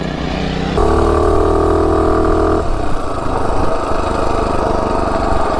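212 Ghost minibike engine fitted with a 24mm D slide carburetor running up close, a loud buzzing drone that holds high revs, then drops to a lower, rougher idle.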